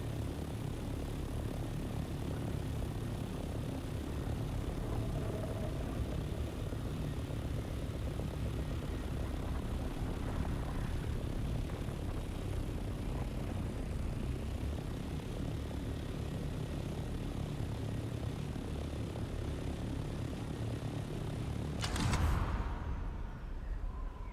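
An aircraft flies in the Dune Awakening video game with a steady, droning engine roar that holds throughout at a constant level, followed by a sharp burst near the end.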